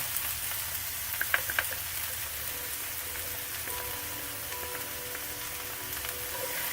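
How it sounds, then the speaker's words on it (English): Garlic frying with onions in a pan, a continuous close sizzle like light rain with a few faint pops early on, steady and moderately quiet, no talking. "Now I'm ready to add the garlic."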